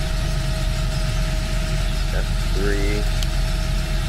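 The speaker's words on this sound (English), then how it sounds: "Starts and turns off the tractor" Fendt 724 tractor engine in Farming Simulator 2013, a loud steady low idle droning throughout with constant rumble, someone talking over it and a few faint chirps from the game.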